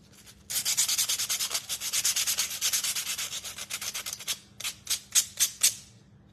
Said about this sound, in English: Definitely more sanding than I wanted to do.